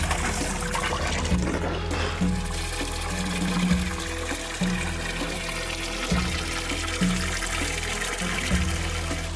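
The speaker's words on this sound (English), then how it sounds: "First thing you do is just to get to the local spring and wash your face." Water splashing and trickling steadily at a stone spring in Battir as someone washes their face, a close, continuous pour with intermittent splashes.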